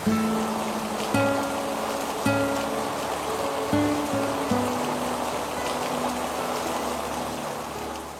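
Steady rain falls outdoors in a scene from an Indonesian drama series, a dense even hiss lasting throughout under soft, sustained music tones, with no voices.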